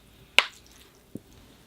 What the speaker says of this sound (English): I'll give the tree a good watering